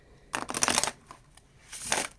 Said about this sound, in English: this is how I shuffle